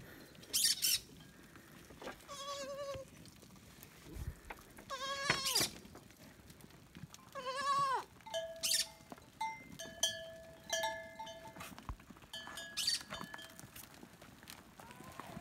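Goats bleat in a goat pen early in the morning, several separate wavering calls scattered across the clip, some close and loud, others fainter, with no talking.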